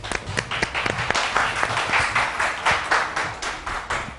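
Studio audience applause on a Pakistani morning show as guests enter, a dense steady wash of many hands clapping with a few sharper individual claps, moderately loud and continuous throughout.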